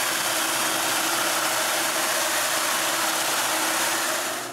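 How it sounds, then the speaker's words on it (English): A belt sander grinds steadily across a wooden tripod part, smoothing away cutter marks with a continuous loud, broadband whir that holds even throughout and eases off slightly at the very end. "To remove the cutter marks, I just use a belt sander"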